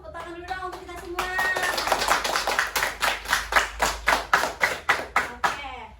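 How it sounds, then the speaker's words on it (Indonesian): Audience at a dengue fever prevention health talk clapping hands, starting scattered under voices and settling into a loud, slow, rhythmic unison clap of roughly a dozen beats. "Boleh dong tepuk tangan dulu dong untuk kita semua."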